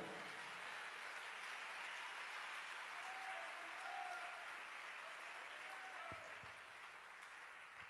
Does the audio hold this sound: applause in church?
yes